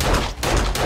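Pistol shots in the game 7 Days to Die: loud, dense gunfire with a short gap in the middle, filling the brief moment from start to finish.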